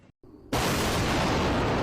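A massive explosion at night: after a short, quiet lead-in and a brief silence, a sudden loud blast erupts and becomes a dense, sustained roar that fills the rest of the moment.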